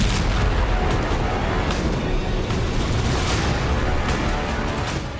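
A Russian FAB-500 bomb explosion on a five-storey building in Kharkiv's Lyptsi area, a heavy, continuous roaring rumble of blast and debris that stays loud throughout and tails off slightly at the end.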